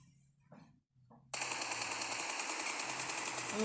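Sustained automatic gunfire from a shooter video game erupts after a brief quiet moment and keeps rattling loudly and continuously to the end.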